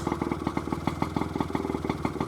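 The small engine of a 1950 Malvern Star Autobyke motorized bicycle idles with a fast, steady putter, its rhythmic pulses even and moderately loud, no voices over it.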